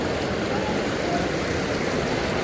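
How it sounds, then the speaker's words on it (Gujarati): The Dharmata river at Balaram flows strongly in full spate, making a loud, continuous, even rushing roar heard from the bank, with no break in the sound. "અને અમે નદીના કિનારે બેઠા છીએ, પાણી ફૂલ ચાલે છે"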